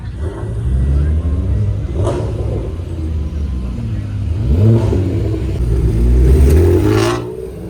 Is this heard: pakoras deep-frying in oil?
no